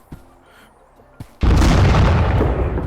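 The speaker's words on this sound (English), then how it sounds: "Is that an impact grenade? It's an impact grenade." An impact grenade explodes in the Teardown VR voxel game, a sudden loud boom after a couple of faint knocks that keeps roaring as a broad, sustained blast and debris rumble to the end.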